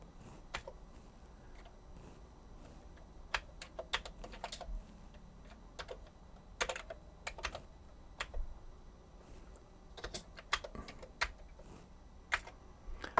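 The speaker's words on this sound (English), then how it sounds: "one of the things I do is just type in just the really quick and basic Hello World" Fast, irregular keystrokes on a Commodore C128 computer keyboard, with sharp clicks in bursts and short pauses between them, close and clear over a faint room hum, with no talking.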